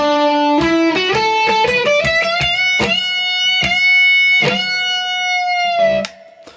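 Electric guitar solo, loud picked notes climbing in steps with sustained, slightly overdriven tones and a string bend, ending abruptly after about six seconds.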